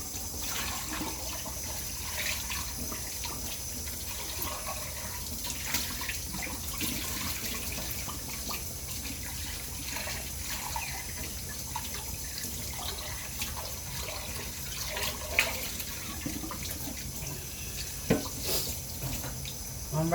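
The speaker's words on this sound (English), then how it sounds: "So I'm going to wash my hands." A kitchen sink tap runs steadily while hands are washed under it, a soft continuous stream with occasional splashes and small clatters, fairly quiet and close.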